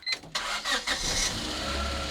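A cheap Honda Civic hatchback engine cranks with a few quick bursts, catches, and settles into a steady running rumble, close by.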